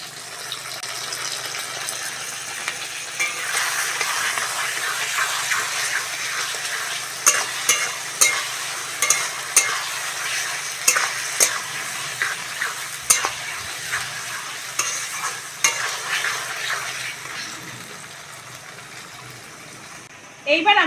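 Chicken scraps fry with ginger, garlic and cumin paste, a steady broadband sizzle with repeated sharp scraping taps of a spoon stirring through the pan, building from about three seconds and fading near the end.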